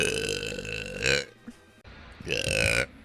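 Two long, resonant burps come up close, one right at the start and another after a brief quiet stretch holding small clicks and breaths.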